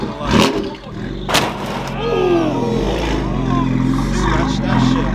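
A 1,000-horsepower BMW M4 with a titanium exhaust rumbles and revs nearby, with a couple of sharp bursts early on, then a sustained engine drone while people talk over it.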